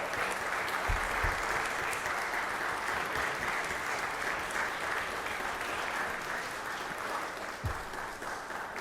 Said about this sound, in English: Let's give Big John Kennedy a round of applause